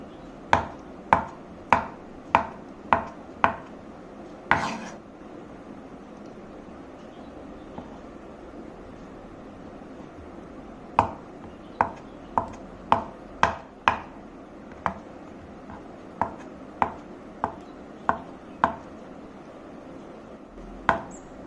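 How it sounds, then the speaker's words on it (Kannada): A knife taps down sharply through four boiled eggs on a board, loud close chops in quick bursts of six to eight strokes separated by pauses, with no talking. "4 ಮೊಟ್ಟೆ, ಇದನ್ನ ಕಟ್ ಮಾಡ್ಕೊಳ್ಳೋಣ."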